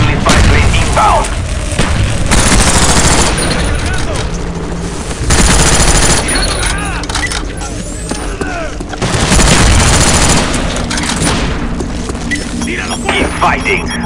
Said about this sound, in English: Friendly fire grenade inbound.